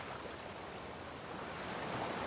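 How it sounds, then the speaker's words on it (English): Ocean waves crash and wash in a continuous, hissing surf that stays soft and distant from start to finish. "These are the waves that arched and crashed, that foamed and frolicked and sprayed and splashed"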